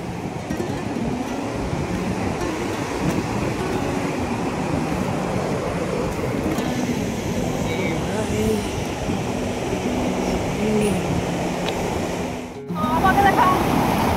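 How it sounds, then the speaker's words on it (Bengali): A large volume of rushing water roars steadily and close by, a dense broadband torrent that fills the whole stretch, with a brief dip near the end before it surges back. "ও মাই গড, কতটা জল চলেছে যে কালকে রাত্রে এতটা ছিলই না"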